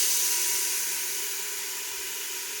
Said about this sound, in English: So I'm gonna cover and let that one simmer